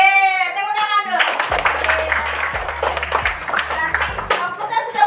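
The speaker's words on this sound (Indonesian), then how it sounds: "Tepuk tangan dulu." Children clap their hands together in a primary school classroom, a quick run of close, rhythmic claps following a brief voice at the start, with a low hum underneath.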